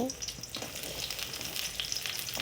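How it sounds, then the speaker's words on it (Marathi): Chopped onion frying in hot oil in a kadai gives a close, continuous crackling sizzle, with a few soft stirring scrapes over a short stretch and no voices. "इथे मी कढईमध्ये वाटण तयार करण्यासाठी तेल घातलं तेल तापलं आता त्यामध्ये कट केलेला कांदा"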